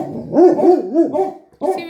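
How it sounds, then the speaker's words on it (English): A pregnant dog barks in a quick run of three or four close, loud barks, then a short pause and one more bark, with faint human sounds in the background. "She doesn't know what she's barking at."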